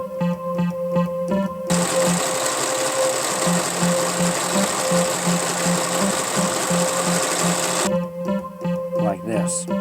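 A serger stitching fabric pieces for a scrub cap runs in one steady, loud mechanical whir for about six seconds, framed by quieter hum and handling noise before and after.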